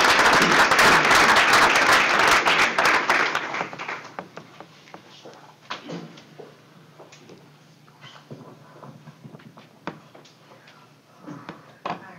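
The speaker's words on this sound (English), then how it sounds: "We can give a round of applause for 4th grade advisory team members." Audience applause at a school board meeting, a loud sustained burst of clapping for about three seconds that quickly dies away into scattered taps, shuffling and faint room noise.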